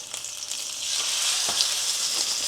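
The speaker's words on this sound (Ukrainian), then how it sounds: "Викладаємо на сковорідочку і підсмажимо до золотистого кольору." Chicken sizzles loudly in a hot frying pan, a steady crackling fry that grows slightly stronger, with a few soft clinks.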